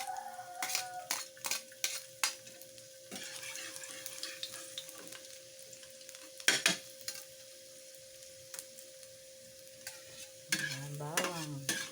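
Garlic sizzles and is stirred in a pan for a Filipino pancit dish with sardines, with repeated clinks and scrapes of a utensil against the metal over a steady low fry, plus a brief louder hiss near the end.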